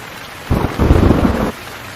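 A sudden one-second burst of heavy rain and rumbling roar from a Kal Baisakhi storm, loud and close, starting and stopping abruptly against quieter background hiss.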